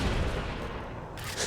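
A short, punchy headshot gunshot in the Halo video game, a single loud burst with a noisy tail and a second crack at the end, heard alone.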